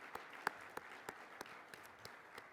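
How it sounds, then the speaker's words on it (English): Applause from a conference audience at an awards session, sparse individual claps spread over a faint, distant patter rather than a full ovation. "Let's give a round of applause"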